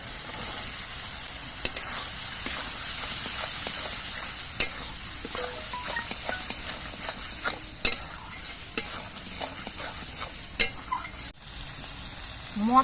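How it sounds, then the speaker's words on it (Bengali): Spices frying with green peas for a broccoli curry, a continuous close sizzle with scattered clicks and scrapes of a spoon stirring in the pan, no speech. "এবার মশলাটা কিছুক্ষণ কষিয়ে নিতে হবে মশলাগুলো কষানোর সময় এর মধ্যে আমি মটরশুঁটিগুলো দিয়ে দিচ্ছি"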